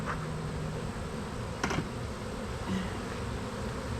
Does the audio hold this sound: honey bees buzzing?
yes